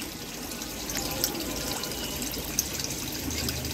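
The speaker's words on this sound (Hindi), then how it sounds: "हाँ देखिए यहाँ पर पानी गिर रहा है" Water falls steadily into a tank at a biofloc recycling filter plant, a continuous close splashing trickle with a few brief louder splashes and no voices.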